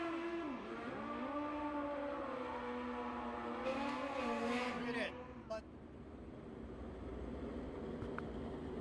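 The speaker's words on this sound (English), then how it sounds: "MPS Pro ET racing in progress right now" Drag race cars in MPS Pro ET class runs at the Fuel Tech World Finals roar down the strip, engine pitch rising and shifting in sweeping steps before cutting off abruptly, leaving a steady crowd-and-track hum.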